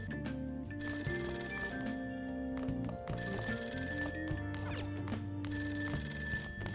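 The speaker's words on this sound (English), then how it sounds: "That ringing sound isn't coming from my cell phone. I hear it coming from downstairs." A telephone rings downstairs in the video game Persona 5 Royal, an electronic ring repeating in steady bursts over quiet background music.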